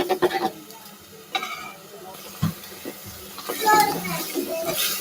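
Onions fry in hot oil in a pan and are stirred with a utensil, a soft sizzle with intermittent scraping and stirring noises, fairly quiet, with faint background voices.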